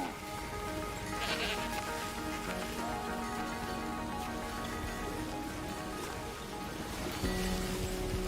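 Goats bleat at a pasture in the post-apocalyptic city-building game Endzone A World Apart, with a few bleats set against a dense, steady bed of game ambience and music.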